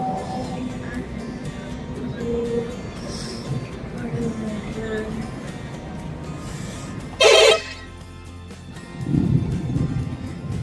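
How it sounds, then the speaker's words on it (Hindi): A loud bus horn honks amid traffic noise and background chatter on a highway stop in India, with one sharp blast standing out near the end. "ये बस आ गई है, हमने हॉर्न बजा दिया।"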